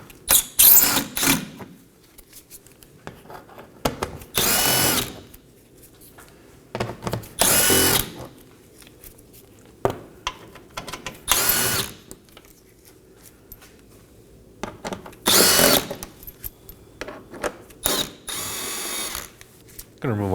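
Cordless power drill spinning out 7mm bolts from the splash shield under a 2018-2024 Chevrolet Equinox 1.5L, heard as several loud whirring bursts a few seconds apart, separated by quieter shop noise and handling.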